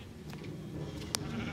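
Minecraft sheep on a wool farm give a short bleat over a low, steady game hum, with one sharp click partway through.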